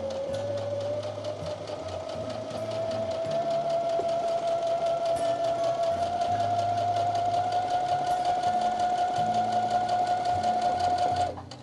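A sewing machine back stitching fabric runs at a steady, even whir with a fast needle rhythm for the whole stretch, close and moderately loud, with no pauses.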